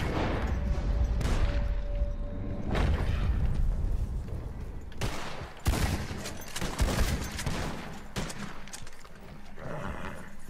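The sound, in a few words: gunfire in the video game Red Dead Redemption 2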